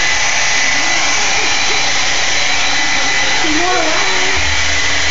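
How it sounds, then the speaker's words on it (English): A hair dryer runs continuously, a loud steady whooshing hum close by, while someone speaks over it. "You like the hair dryer"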